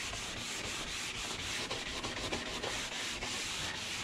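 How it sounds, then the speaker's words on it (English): A stiff nylon brush scrubs back and forth over a freshly waxed ski base, a faint, steady rasping rub with soft rhythmic strokes and no voices. "It's a stiff nylon brush."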